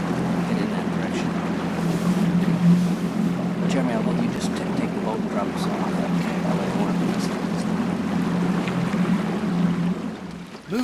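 A motorboat engine drones steadily throughout in Southeast Alaska, with wind and water noise around it and faint voices now and then.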